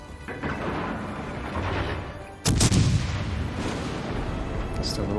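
Warship naval guns fire in the World of Warships naval combat game, with a sudden heavy boom midway that trails off into rumbling battle noise. Someone talks over the steady background of engines and distant shots.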